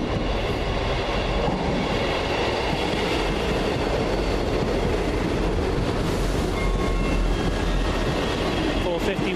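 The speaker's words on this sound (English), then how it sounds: "Manchester Bournemouth train arriving." A Manchester to Bournemouth passenger train pulls into Basingstoke station, a steady loud rumble of wheels and engine filling the whole stretch, with faint voices and station noise mixed in underneath.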